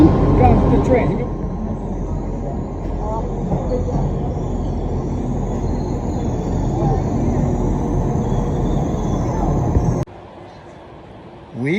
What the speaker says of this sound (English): Oh, here comes the train.